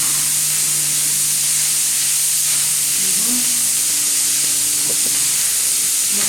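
Cooked white rice goes into a hot pan of turmeric-seasoned frying food, a loud steady sizzle and hiss with light stirring scrapes close by.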